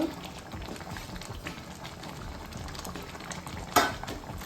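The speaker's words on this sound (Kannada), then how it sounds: "ಈ ಥರ ಹಿಂಗೆ 3-4 ನಿಮಿಷ ಚೆನ್ನಾಗಿ ಹಿಂಗೆ ಕುದಿಬೇಕು" Rajasthani dal kadubu simmering in a pot, a steady close bubbling and churning boil with a light clink near the end.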